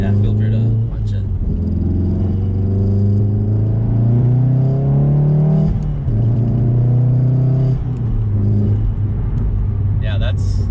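A Volkswagen Golf R accelerates hard with manual gearshifts, engine tone climbing steadily, dropping at a shift, then rising again, heard loud from inside the cabin with people talking over it.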